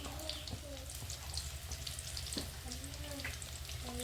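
Peppercorns and cloves fry in hot oil with a soft, continuous sizzle and light crackle, quiet and close, with a voice talking faintly in the background.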